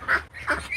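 A duck gives three quick, loud, nasal quacks close by, one after another with no other sound.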